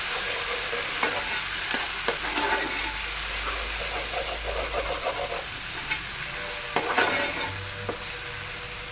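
Ginger garlic paste sizzles steadily in a hot pan for chicken curry, with scattered scraping stir strokes and soft clinks of a spoon, close-up and continuous with no talking.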